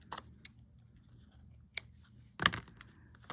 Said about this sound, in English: I can cut the threads